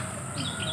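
A tame sooty-headed bulbul gives a quick, close chirp or two over a steady background hiss.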